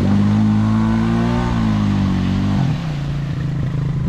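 A Honda Rancher 350 ATV engine idles loudly and unevenly close by, its pitch sagging and dropping lower near the end as it threatens to stall.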